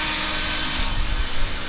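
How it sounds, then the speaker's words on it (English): Drill grinding on a stuck rear bolt of a 1972 Blazer, a continuous harsh high whine with a low rumbling undertone, close and steady. "Drilling the rear one now."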